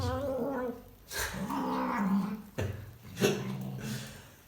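Miki, a tense female cat, lets out drawn-out growls and yowling caterwauls in bursts, close and loud, with short breaks between them.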